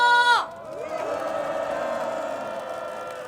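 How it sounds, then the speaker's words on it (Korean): A rally crowd cheers and shouts after an amplified voice cuts off, sending up a broad sustained roar of many voices that fills the rest of the moment at even strength. "함성"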